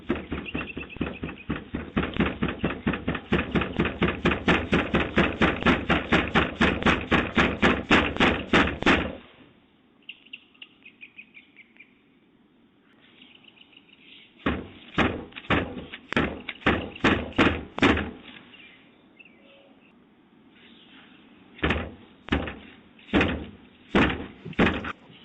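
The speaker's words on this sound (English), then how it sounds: "a man aggressively knocked on a homeowner's door" A man pounds aggressively on a home's front door, long runs of rapid heavy knocks close to a doorbell camera, broken by pauses and then renewed bursts of hammering.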